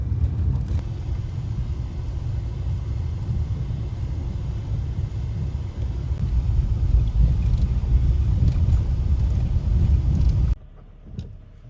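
A truck rolls along a rough forest trail deep in the woods, its engine and tyres giving a steady low rumble that grows slightly heavier midway, then drops to a quieter idle near the end; no talking.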